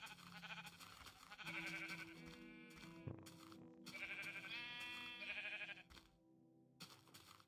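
Video game sheep bleat in long, loud, wavering calls, one after another over a steady game background.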